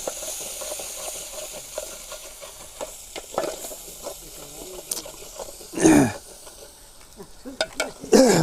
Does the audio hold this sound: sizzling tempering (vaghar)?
yes